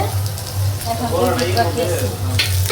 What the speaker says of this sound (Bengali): এখন আমি হালকা তেলের মধ্যে হালকা ভাইজা নেব